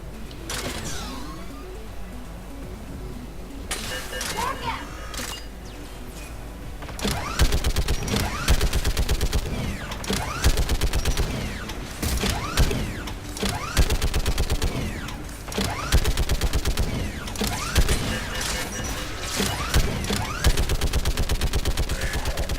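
A vacant gun turret in Mass Effect 3 fires in sustained heavy bursts of rapid shots, loud and dense, over a rumbling battle backdrop after a quieter opening stretch.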